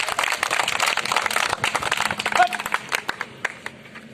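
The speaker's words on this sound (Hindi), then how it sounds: "जोर से ताली लगाइए" A street crowd at a roadside show claps loudly in dense, rapid bursts that thin into scattered claps, with voices mixed in.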